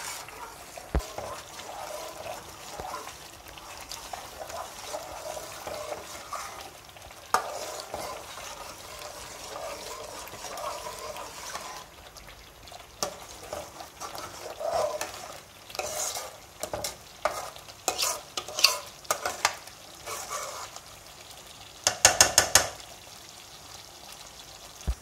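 Milk cream simmering over very low heat in a pan as desi ghee begins to separate, giving a steady soft sizzle and bubbling with scattered stirring scrapes, louder crackles late on, no talking.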